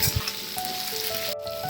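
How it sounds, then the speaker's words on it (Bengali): Chunks of potato and pointed gourd fry in a pan, giving off a soft, steady sizzle with a faint stirring scrape near the start and no talk. "আবারও খুব ভালো করে আলু আর পটলটা ভাজা ভাজা করতে হবে।"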